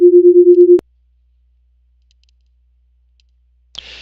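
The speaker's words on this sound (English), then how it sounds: "The Play Demo button allows us to listen to that beat rate using a simple sinusoidal waveform." A simple sinusoidal beat-rate tone from a beat trainer pulses in quick, even throbs for under a second, then cuts off into silence before a brief faint click and hiss near the end.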